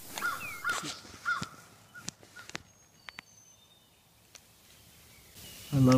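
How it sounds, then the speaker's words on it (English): Morning birds, including crows, call around a forest campsite in a US national forest: scattered caws and chirps, fairly close and intermittent, over a quiet background, ending in a louder burst. "I love the sound of birds in the morning."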